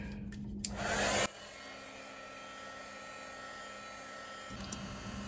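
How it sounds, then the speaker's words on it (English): Steady whirring hum of a heat gun blowing hot air onto wood to soften glue, close and constant, with a brief louder rushing burst at the start. "You just have to keep moving that heat tool so you don't end up burning the wood."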